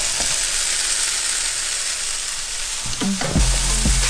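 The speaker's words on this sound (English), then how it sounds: "This is warm, so I'm gonna add the garbanzo beans." Garbanzo beans sautéing in a warm pan give a steady, close sizzle and hiss, with a burst of louder stirring clatter and crackle near the end; no one speaks.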